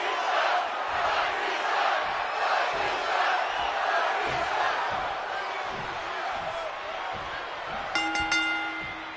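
A virtual arena crowd roars steadily in the WWE 2K26 wrestling video game during a CM Punk title match, a dense sustained cheer with occasional thuds and a bright metallic ring near the end.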